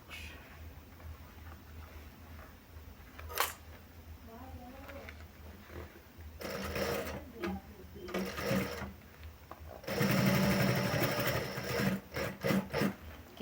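A sewing machine top stitches a sling bag in short, buzzing runs separated by pauses, the bursts growing louder and more frequent toward the end, with a quiet voice between.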